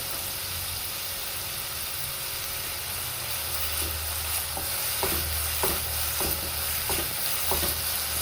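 Onion, chopped green chillies and ginger-garlic paste sautéing in a pan, a steady close sizzle with a low hum underneath, and rhythmic spoon scrapes starting midway and repeating about once a second.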